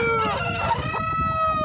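Broiler parent-stock chickens in a modern farm shed with nest boxes and floor litter, a rooster crowing loudly up close while hens cluck and call underneath.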